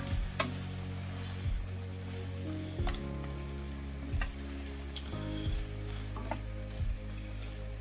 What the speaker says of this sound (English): So now we add the mushrooms in. And we stir everything together.